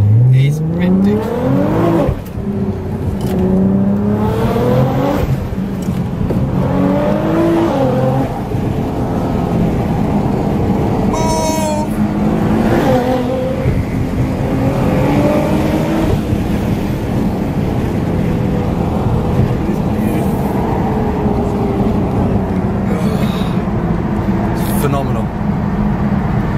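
A 900 bhp Nissan GT-R engine revving hard through repeated rising gear pulls, loud and close with heavy wind buffeting, while people talk over it.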